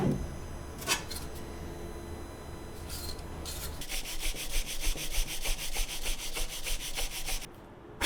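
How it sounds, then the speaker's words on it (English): Steady rasping strokes of a sanding block rubbing on a wooden mallet, with a quicker back-and-forth rhythm in the second half, close and moderately quiet. "gave it one final pass with a sanding block"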